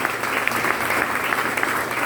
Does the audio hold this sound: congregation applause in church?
yes